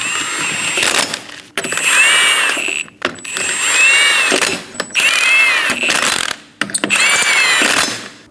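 Rear lug nuts on a 2008-2015 Scion xB are run down with a power tool in several loud, close whirring and ratcheting bursts, separated by brief pauses, with no talking.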